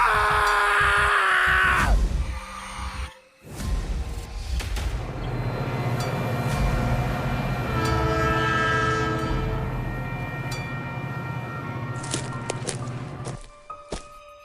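A train pulls into a station with a loud horn blast, then a steady heavy rumble of rolling wagons and clanking that holds close and strong before cutting off near the end.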